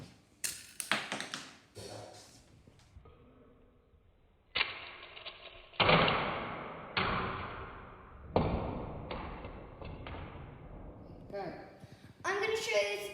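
Lego-built crossbow shooting, a series of sharp snapping shots and clattering thuds spaced a second or two apart, moderately loud and close, with a few quieter taps between.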